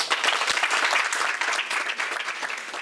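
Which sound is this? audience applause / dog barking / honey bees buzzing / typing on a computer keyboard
audience applause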